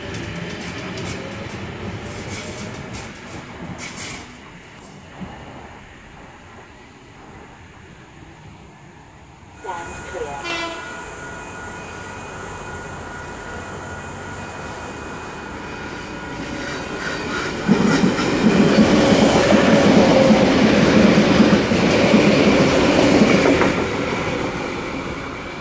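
An H-set electric passenger train pulls out of Koolewong station on a Central service, starting as a faint whine and building into a loud, close, rumbling roar as it gathers speed past the platform.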